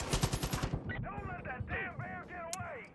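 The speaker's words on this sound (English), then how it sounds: "That wasn't fire, that was shooting." Rapid automatic gunfire from the Far Cry 5 shooter game rattles loudly for under a second, then fades as voices and game chatter take over the rest of the moment.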